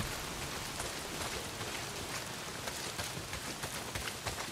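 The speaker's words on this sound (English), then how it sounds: "Well, not if it's pissing down rain." Rain pours down in the video game Days Gone, a dense, even hiss of drops hitting surfaces that holds steady throughout, with no talk over it.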